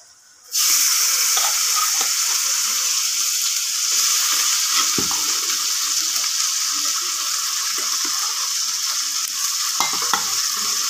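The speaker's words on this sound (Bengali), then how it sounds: "এই যে গরুর মাংসটা দিয়ে দিচ্ছি।" Beef frying in a pot over a clay stove for a Bengali beef curry, breaking into a loud, sustained sizzle after a short quiet start, with occasional stirring scrapes and no talking.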